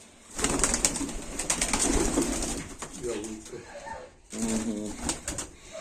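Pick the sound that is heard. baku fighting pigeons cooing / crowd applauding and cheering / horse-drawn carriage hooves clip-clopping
baku fighting pigeons cooing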